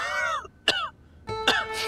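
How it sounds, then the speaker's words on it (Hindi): A man clears his throat and coughs in a few short, harsh bursts, close by and separated by brief pauses, with no speech. "खांसी तो आपकी ठीक हो नहीं रही है"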